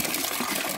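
Water pours in a brief steady splashing gush onto a potted pepper plant, heard close and fairly loud.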